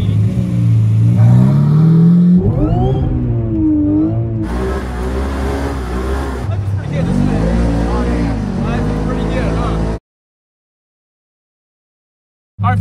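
A Lamborghini engine revs loudly and close, its pitch climbing and falling through repeated throttle blips, then cutting to silence before a brief return; a voice may be mixed in.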